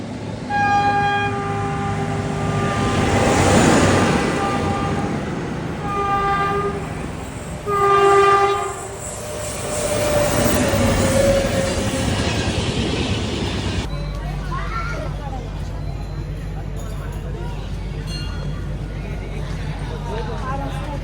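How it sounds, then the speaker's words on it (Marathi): A train pulls into a station, sounding its horn in several loud blasts over a rumbling roll, with people talking nearby before the sound cuts to a quieter scene. "ट्रेन आलेली आहे"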